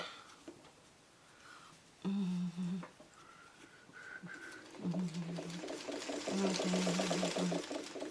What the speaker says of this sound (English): And this is where we're sewing the red.